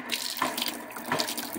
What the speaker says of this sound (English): So I can turn on the cold water here or the hot water.